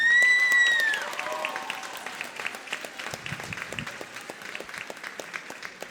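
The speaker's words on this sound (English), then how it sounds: "Will you give these individuals a round of applause?" A held musical tone fades out at the start, then an audience at a middle school popular music concert breaks into steady clapping that carries on to the end, moderately loud with scattered cheers.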